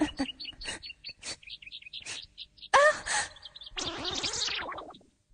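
Small birds chirp in quick, bright repeated tweets in an anime scene, close and clear, before a gasp and then a longer breathy vocal sound close the moment.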